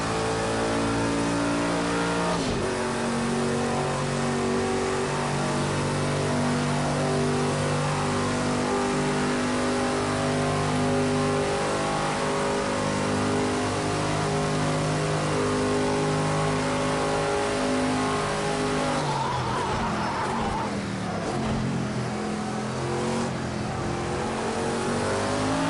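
A race car engine in Project Cars 2 revs hard and continuously at close range, with rising and falling pitch through gear changes and a brief dip and recovery near the end, and no voices.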